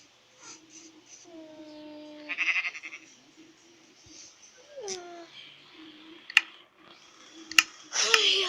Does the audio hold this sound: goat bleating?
yes